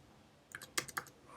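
A short burst of keystrokes on a computer keyboard while writing code, a handful of quiet clicks in a quick uneven run against a soft room hiss.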